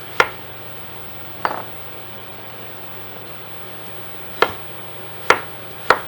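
A knife slicing a cucumber into half moons on a cutting board in a few sharp, separate thuds, close by over a steady background hum.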